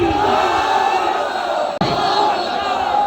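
A large crowd loudly chants the Islamic slogan Nara-e Takbir, Allahu Akbar as a dense, continuous roar of voices with a brief cut near the middle.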